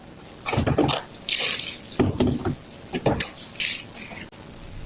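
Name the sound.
gasoline poured from a gas can onto a vehicle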